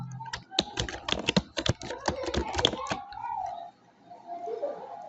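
Rapid clicking keystrokes on a computer keyboard fill the first three seconds in close, uneven bursts, followed by quieter background sounds with faint bird-like cooing.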